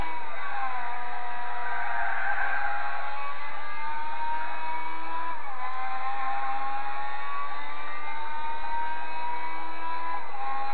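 A race car engine in the Gran Turismo 4 video game strains to climb through the revs, its whining tone rising slowly and steadily before dipping briefly at a gear change and pulling again, loud and continuous with no voices.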